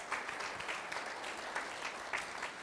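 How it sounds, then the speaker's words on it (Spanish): A church congregation claps together after a call for strong applause, a steady, moderately distant patter of many hands lasting a few seconds with no talking over it. "Un aplauso fuerte"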